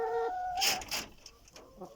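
Chickens in a backyard coop, including a crossbred Brahma hen, give a few close clucks and a short squawk, then quieter scattered calls.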